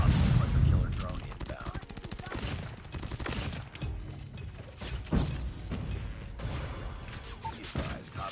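Rapid bursts of automatic SMG fire in Call of Duty Mobile ring out in dense, rattling strings with mechanical clicks, loud and close, while a player talks over the action.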